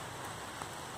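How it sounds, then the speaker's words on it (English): Heavy rain falls steadily during a walk outdoors, a dense, even hiss of drops on surfaces, close and continuous for a brief moment. "It's raining pretty hard."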